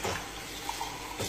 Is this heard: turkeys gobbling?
no